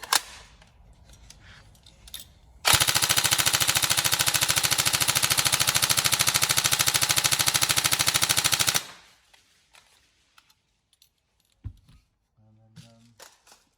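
A Tokyo Marui 416 Delta NGRS airsoft electric gun fires one long full-auto burst of about six seconds, a loud, rapid, even mechanical rattle, with quiet handling clicks before and after.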